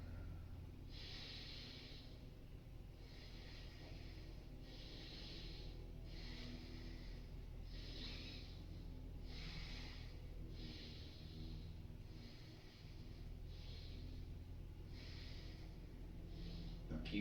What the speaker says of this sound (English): Try to keep breathing only through the nose. In through the nose, out through the nose.